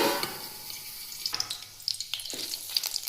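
Whole spices, a bay leaf, cumin and fresh curry leaves sizzle in about one and a half ladles of hot oil, a soft steady hiss broken by sharp crackling pops as the leaves hit the pan.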